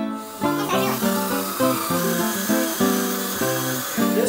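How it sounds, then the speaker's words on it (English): A drill bores through the wooden jaw of a handscrew clamp, its steady motor whine broken by repeated loud grinding surges as the bit cuts deeper, close and alone with no talking. "We drill deep enough in order that it would make it through to the other side."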